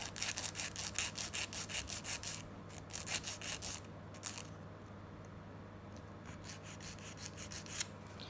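A fingernail is filed with the fine 180-grit side of a nail file while shaping a square nail, giving close, soft rhythmic rasping strokes that are steady at first, then thin out into fainter scattered strokes.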